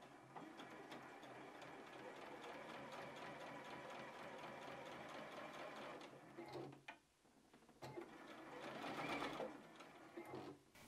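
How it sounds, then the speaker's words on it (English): A sewing machine stitches over a zipper on a box pouch, a fast steady mechanical whirr and needle rattle that runs continuously, then slows and pauses briefly before starting up again, close and clear. "we are gonna sew over the zipper"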